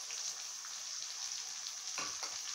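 Masala paste sizzling and frying in hot oil for carrot masala curry, a steady bright crackle throughout, with a brief stir or scrape near the end.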